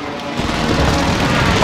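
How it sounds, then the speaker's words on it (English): Loud, sustained booming and rumbling of precision airstrike explosions in a Call of Duty Warzone match, dense and continuous across the moment with no clear gaps. "Precision airstrike incoming."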